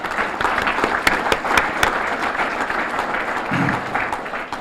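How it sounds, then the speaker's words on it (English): An audience at a town State of the Town address applauds Mike, brisk, fairly close clapping with a few sharp individual claps, then fading slightly toward the end. "How about a big round of applause for Mike?"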